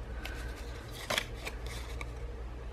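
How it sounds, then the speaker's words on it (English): Small decorative scissors snipping a paper floral piece for a scrapbook pocket letter, a few quiet crisp snips with one sharper cut near the middle, close and alone. "I think actually I might use my little decorative scissors here on this floral piece."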